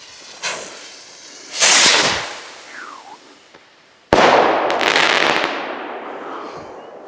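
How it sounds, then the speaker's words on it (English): Purple Pinnacle firework rocket launching with a brief hiss, followed by loud cracking bursts and then a sharp explosive bang with a crackling, sizzling tail, heard outdoors without talk. "Let's do the purple Pinnacle rocket."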